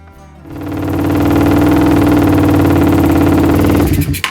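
A 150cc four-stroke engine runs cold on a test, rising quickly to a loud, steady buzzing drone held at constant revs close by, then cutting off abruptly near the end.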